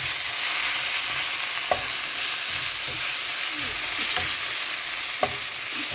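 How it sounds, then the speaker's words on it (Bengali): Taro leaves sizzling in hot mustard oil in a pan, a steady dense hiss throughout, with a few soft stirring knocks and scrapes, close and fairly loud, no talking. "এরপরে আপনারা কচু শাকটি মধ্যে দিয়ে দেবেন"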